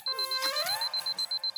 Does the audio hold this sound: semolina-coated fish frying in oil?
no